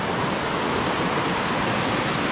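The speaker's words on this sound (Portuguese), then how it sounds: "Chegamos até o final da cachoeira" Water pours at the foot of the Oma Paula waterfall near Massaranduba, SC, a dense, steady roar of rushing water filling the scene without a break.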